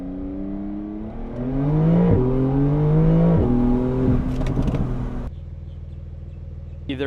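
Porsche 911 sports car engine accelerating hard through the gears, loud rising revs broken by quick gear-change dips, then settling to a lower steady drone.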